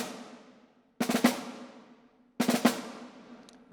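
Open snare drum strokes with grace notes, two separate clusters of quick flams ringing wide with a long decaying buzz, close and fairly loud alone in a quiet room.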